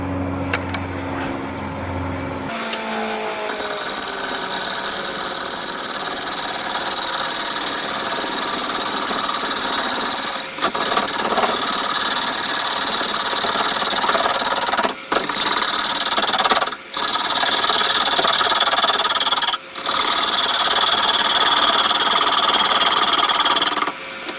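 A wood lathe spinning a bowl blank while a Hurricane bowl gouge cuts gives a loud, steady hiss and whine after the motor starts up, broken by a few brief pauses in the cut. No one speaks.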